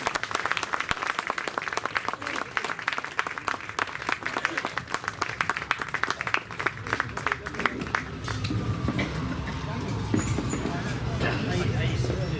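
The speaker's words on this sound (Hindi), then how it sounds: "जोरदार तालियां बजाएं सबके लिए" A crowd at a Hindi comedy poetry gathering in Chakradharpur breaks into sustained, dense clapping. Voices and general crowd noise mix in throughout, and the clapping thins into a murmuring din toward the end.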